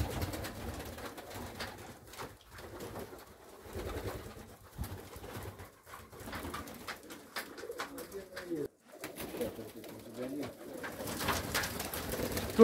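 Red pouter pigeons cooing in a loft, soft low throaty coos repeating irregularly amid rustling and shuffling, with occasional faint talk nearby.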